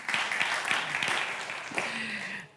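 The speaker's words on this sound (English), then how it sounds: "I think we should all give ourselves a round of applause because a lot of us are comedy writers here." An audience of comedy writers applauds in a continuous, moderately loud wash of clapping that fades out toward the end.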